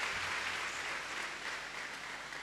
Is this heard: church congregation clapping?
yes